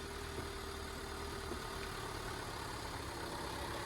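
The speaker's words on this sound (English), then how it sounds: "Try the gears, Chris, see if it moves." A crash-damaged 2017 Vauxhall Corsa engine runs and is put into gear, producing a faint, steady low idle hum with no distinct revs and no speech.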